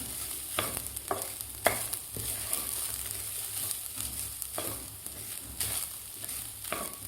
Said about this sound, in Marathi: आता हे ओला नारळसुद्धा आपल्याला तांदळाबरोबर व्यवस्थित परतून घ्यायचं आहे।